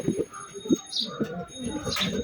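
Soft low cooing from a pigeon nearby at a rooftop cage, a few short murmured calls amid light background noise.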